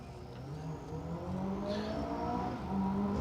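A little Mini rally car on an asphalt stage of the Manx Rally, its engine droning steadily at a distance and rising gradually as it approaches, with no talk over it.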